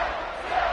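A stadium crowd roars in a college football video game between the Longhorns and Alabama, a dense, steady cheer for under a second with no clear talk over it.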